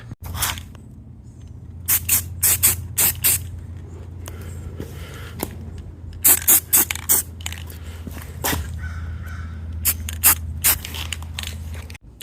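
Repeated short hissing bursts of a spray paint can on rusty metal trailer parts, some quick and some longer, over a steady low mechanical hum.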